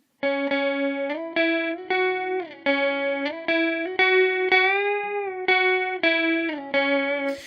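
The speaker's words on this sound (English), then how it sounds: "lots of distortion, lots of kind of chorus, flangery type stuff on it." Electric guitar with heavy distortion and a shimmering chorus and flanger effect plays a loud, sustained riff, repeated picked notes with a few bends.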